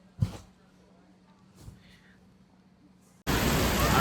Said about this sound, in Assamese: এতিয়া আমি বাহিৰলৈ যাব পৰা নাই, কাৰণ বাহিৰত সাংঘাতিক বৰষুণ।